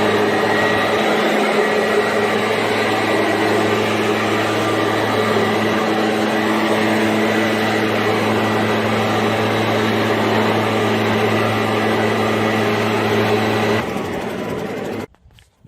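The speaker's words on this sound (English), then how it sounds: "put the leaf blower to it and blow off any dust before I seal" A leaf blower drones loud and steady for about fourteen seconds, blowing dust off a stamped concrete patio before sealing, then cuts off abruptly.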